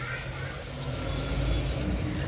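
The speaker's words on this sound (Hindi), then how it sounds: "अब हम इसमें ऐड करेंगे 1 कप पानी" A cup of water poured into a cooking pot holding raw mango (kairi) and meat for a drumstick curry, a steady close splashing pour over a couple of seconds.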